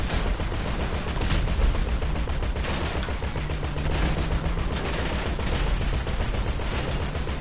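Sustained, loud video-game gunfire crackles almost without a break, rapid shots blending into a dense barrage that stays steady from start to finish with no voices over it.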